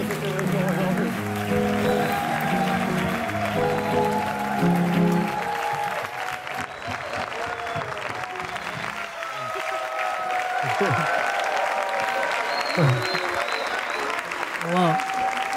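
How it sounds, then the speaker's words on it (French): Applause from a television studio audience during a celebration on a talk show. Dense clapping runs under someone speaking and music, then fades into mixed noise and scattered voices. "Applaudissements encore pour la belle Imani pour cette célébration aujourd'hui."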